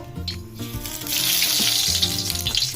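Cumin seeds dropped into hot oil in a kadai, bursting into a loud, close, hissing sizzle after a brief clink, continuing steadily to the end.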